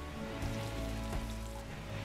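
Toxic rain falls in RimWorld, a soft steady hiss of droplets on surfaces with no voices.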